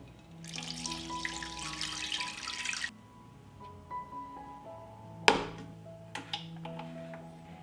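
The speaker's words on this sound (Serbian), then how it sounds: "I nalit ću vodu." Water runs steadily into a cooking pot for about two and a half seconds, close and fairly loud, then stops, leaving a few light knocks and drips.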